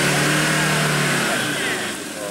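A car engine revs hard as the driver gives gas, a loud roar that swells and then eases while people talk over it.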